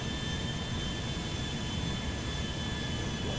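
An Air France airliner in flight in a video game gives a continuous jet engine roar, dense and unchanging, with a faint high tonal whine layered on top.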